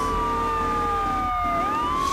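Ambulance siren in the video game Grand Theft Auto 3, a loud close wailing tone that sweeps down in pitch over game traffic noise.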